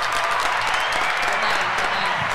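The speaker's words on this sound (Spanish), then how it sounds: "Un aplauso en todo el estudio que fue la mejor guerra de parejas que hubo." Steady, dense applause from a studio audience on a Spanish-language television entertainment show, filling the whole moment at a close, even level with no break.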